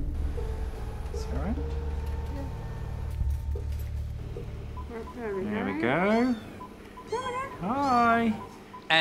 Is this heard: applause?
no